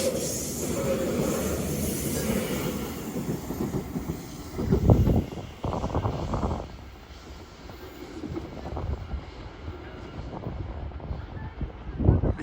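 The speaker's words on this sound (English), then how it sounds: "train now zooming past is a 331 going to Blackpool North" A class 331 train bound for Blackpool North rushes past a station platform at Edge Hill, a loud, close rumble with wind buffeting the microphone and rhythmic wheel clatter that swells and fades in waves.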